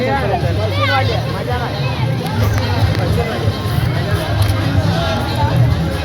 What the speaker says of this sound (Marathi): पूर्ण गर्दी.